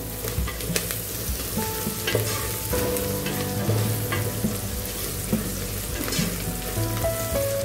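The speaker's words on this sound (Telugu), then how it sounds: "సాల్ట్ యాడ్ చేయడం వల్ల మనకి ఆనియన్స్ అనేవి త్వరగా ఫ్రై అయిపోతాయి" Onions frying in a pan with salt give a loud, close, steady sizzle, with stirring scrapes and clinks throughout and no talking.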